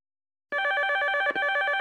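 A telephone bell bursts into a loud, continuous electric ring after a moment of silence, breaking off for an instant before ringing on steadily and close by, with no voices.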